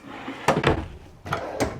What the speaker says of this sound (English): We've got big drawers, and there is 3 of them.